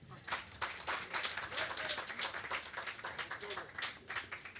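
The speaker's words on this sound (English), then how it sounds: "I thought somebody should clap for that." Audience clapping at an evening event in a hall, a dense patter of claps running steadily throughout at moderate level, with crowd murmur and voices mixed in.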